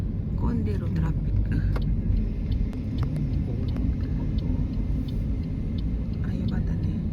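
Road traffic on a busy street, a continuous low rumble of passing cars and engines that stays loud and close throughout, with a few faint clicks and knocks.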